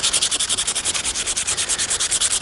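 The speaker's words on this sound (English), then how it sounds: "So I'm just gonna sand this." Rhythmic back-and-forth sanding strokes on a rusty metal grill, a steady rasping scrape repeating about eight times per second, close and alone with no voices.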